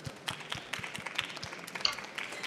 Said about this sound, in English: Yes, we can clap for Simon.